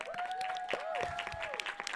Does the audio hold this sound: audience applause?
yes